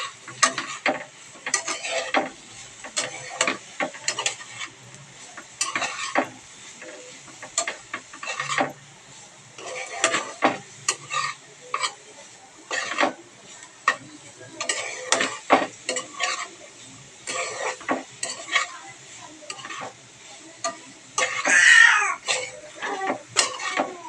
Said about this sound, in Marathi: मग ही व्यवस्थित थोडीशी हलवून घेऊया